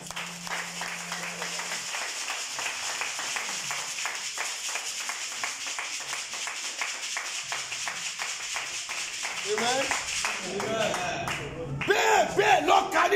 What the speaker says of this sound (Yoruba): Pàtẹ́wọ́ fún Jésù. Clap.